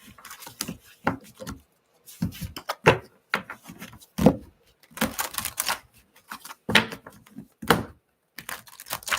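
Tarot cards are shuffled in a series of sharp riffling bursts and snaps, close and crisp, with short pauses between handfuls and no talking.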